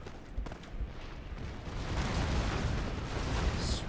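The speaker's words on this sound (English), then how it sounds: "now I'm going to start to fire with my organ gun" Organ gun volleys in a large battle video game, a rumbling wash of cannon-like booms and crackling blasts that swells and holds steady at a moderate distance, with no voices.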